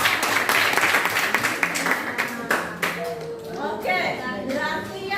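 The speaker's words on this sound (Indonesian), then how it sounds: "Ya, oke, bisa tepuk tangan." A classroom of students claps their hands, a burst of quick, fairly close claps that thins out as children's voices and chatter rise over it.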